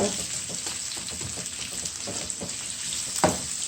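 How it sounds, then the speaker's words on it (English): Garlic and onion sauté in a skillet, a steady close sizzle with light crackles and occasional stirring scrapes, heard alone. "So now I'm gonna just put the garlic with the onion in the skillet. And you want this to saute."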